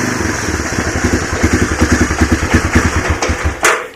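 A cold Honda ATC 250SX three-wheeler engine runs with a loud, uneven chugging idle and then stalls abruptly as the choke is closed, ending in a short clatter and silence.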